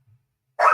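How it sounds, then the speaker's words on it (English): A dog gives a single short, sharp bark after near silence, loud and close. "Now both of them are barking."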